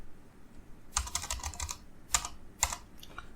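Keystrokes on a computer keyboard while entering a district name into a COVID-19 status app, heard as a close, dense burst of rapid taps followed by a few separate clusters of keys, with no talking.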